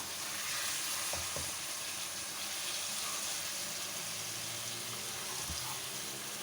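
Continuous loud sizzling from onions and tomatoes frying with boiled mutton for biryani, with occasional spoon scrapes and clinks as it is stirred in the pan.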